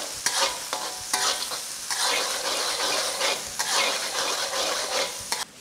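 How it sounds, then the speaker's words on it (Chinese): Doubanjiang chili bean paste is stir-fried in a hot wok for a Sichuan lamb soup dipping sauce, giving a steady close sizzle broken by repeated scraping strokes of a spatula, with no talking. "豆瓣是微辣的，给它炒香，炒出颜色哈"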